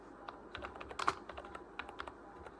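Typing on a computer keyboard while entering a search during a logo design lesson, with quiet, close, irregular key clicks in a short burst and a few louder taps midway.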